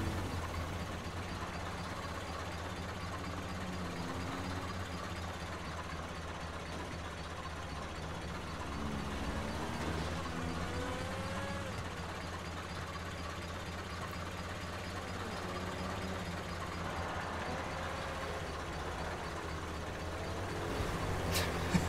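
A tractor engine in the GTA FiveM video game: a low, steady idling rumble with a slight knocking character holds for the whole stretch, a few faint revs rising and falling, with no voices.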